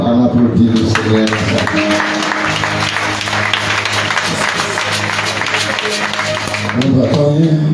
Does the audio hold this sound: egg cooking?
no